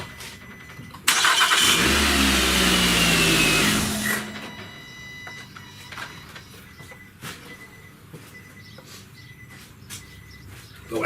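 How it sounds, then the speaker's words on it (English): A 2010 Nissan Altima engine cranks over on a fairly new battery, a loud broadband churn lasting about three seconds, then dropping to a quieter running engine with faint birdsong in the background. "should have no problem cranking that engine over whatsoever."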